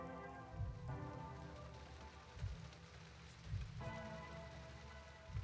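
Steady rain falls in the video game Master Detective Archives: Rain Code, a faint, even hiss of drops layered over a low, sustained musical drone with soft rhythmic pulses.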